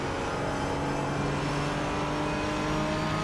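A Porsche race car engine drones continuously during a race, a loud, dense and steady roar with no breaks and no talk.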